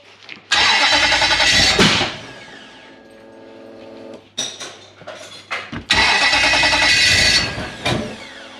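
A Toyota 1UZ V8 in a sterndrive boat under repair cranks and fires loudly twice, each burst roaring for over a second before dying back, with a quieter idle and rough stumbling between the starts.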